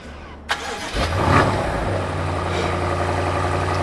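A 2019 BMW engine turns over after a remote start and settles into a steady, low idle rumble, close by, with no talking.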